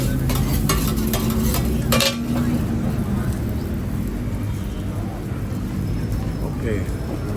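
Egg is stir-fried at a Bangkok street food stall, with a steady sizzle and frying hiss and a few sharp metallic scrapes and clanks of a utensil early on. People chat in the background.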